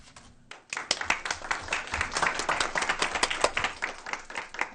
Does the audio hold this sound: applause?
yes